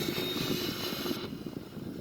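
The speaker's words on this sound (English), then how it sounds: "The engine is spinning." Boeing 737NGX jet engine running in a flight simulator game, a steady whining drone that drops away partway through, leaving a quieter, duller hum.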